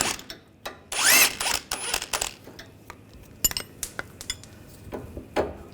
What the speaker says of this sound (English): Take the nut off.